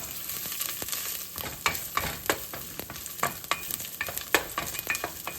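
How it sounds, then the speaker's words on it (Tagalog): Sliced ginger sizzles in hot oil at the start of a tinolang manok, a steady bright crackle broken by sharper spatters and the scrape of stirring, close and without voices. "at mainit na po ang ating mantika. Lagay na po natin una ang ating luya."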